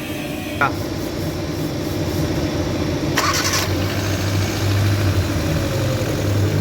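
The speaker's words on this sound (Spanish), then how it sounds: "vamos a arrancar el vehículo" A Hyundai Atos with a vacuum gauge hooked up cranks with a brief starter whir, then catches and settles into a steady, even idle that holds close by for several seconds.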